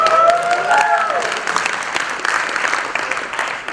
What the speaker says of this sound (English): Thank you for the gratuitous applause break.